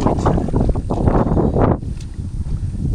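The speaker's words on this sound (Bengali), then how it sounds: "বাতাসও প্রচুর পরিমাণে বইছে।" Strong wind gusts across a rain-flooded rice seedbed field, roaring and buffeting close to the microphone in a dense, uneven rush that eases slightly toward the end.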